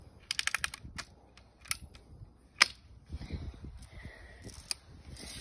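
A BB gun being cocked and fired outdoors on a cold winter day: a quick cluster of sharp metallic clicks and snaps, then a few isolated cracks and shots, close to the microphone with faint background rustle and no talking.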